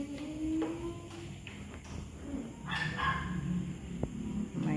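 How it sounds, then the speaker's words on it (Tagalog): A dog barks and yips at a rural Philippine home, several short calls scattered over a steady outdoor background with some voices. "May aso."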